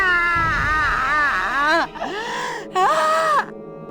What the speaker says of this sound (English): What was that scream?